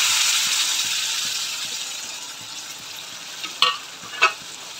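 Chopped tomato stirred into masala frying with cumin powder and garam masala, a loud bright sizzle that fades slowly, then two sharp scrapes of a spoon near the end.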